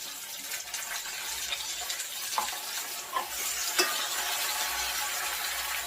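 Tomato and onion frying in oil for dal tadka are stirred with a spoon, a steady close sizzle broken by a few scraping knocks of the utensil against the pan.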